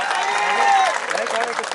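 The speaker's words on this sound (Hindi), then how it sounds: "ठोको ठोको ताली ठोको" A crowd at a political rally in Aurangabad claps in a dense, steady wash of applause, with a voice rising above it.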